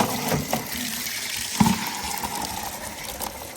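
Tap water runs steadily to fill for a dog's bath, a continuous broadband gush with a couple of brief splashy bumps, close by and with no talking.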